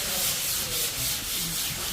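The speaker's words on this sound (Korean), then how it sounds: "이렇게 해서 접어서 연마를 가볍게 할 겁니다" Folded sandpaper rubs lightly by hand over a painted ceiling surface during finishing prep, a close, continuous hissing scrape with gentle back-and-forth swells and no voices.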